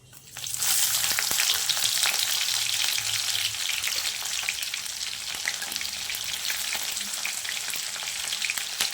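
Chopped onion dropped into hot oil with mustard seeds and cumin, a loud continuous sizzle and crackle after a brief quiet start, with faint stirring scrapes and no talking.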